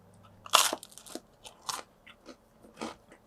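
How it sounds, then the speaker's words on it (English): Crisp crunching as teeth bite into the charred back crust of a home-baked pepperoni pizza, a few loud close bites followed by quieter chewing crackles in a quiet setting. "Let's see what happens when I bite into the back crust."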